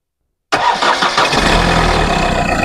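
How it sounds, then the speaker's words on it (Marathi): A Ford Fiesta with a low battery cranks and catches on a jump-starter, its engine starting abruptly from silence and settling into a loud, steady idle close by. "आता सेल्फ मारूया आणि गाडी चालू होती की बघूया"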